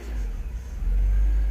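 A BMW 323i with an airflow-sensor fault revs under acceleration, its close, heavy low rumble swelling and growing louder toward the end of the short burst.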